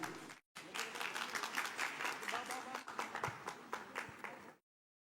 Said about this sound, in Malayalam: സവിശേഷയുടെ സാഹിത്യ പുരസ്കാര ജേതാക്കൾക്ക് എല്ലാവർക്കും നിറഞ്ഞ കയ്യടി